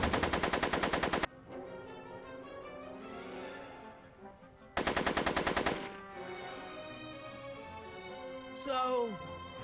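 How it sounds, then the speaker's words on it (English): Two loud bursts of rapid machine gun fire from the Back to the Future video game, each lasting over a second, with quieter game sounds and a voice between them. "I'm afraid I'm finding it difficult to concentrate with all the bullets flying around my head, Mr. Corleone."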